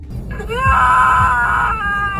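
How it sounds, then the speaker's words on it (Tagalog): A voice cries out and screams in a long, sustained, wavering wail, loud and close, used as a horror story effect about a ghostly woman begging for help. "isang babaeng umiiyak, sumisigaw, humihingi ng tulong"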